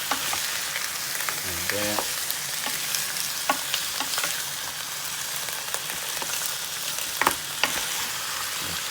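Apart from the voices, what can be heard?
pork neck bones stirred and browning in pot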